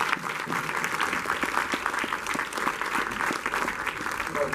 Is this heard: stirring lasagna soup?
no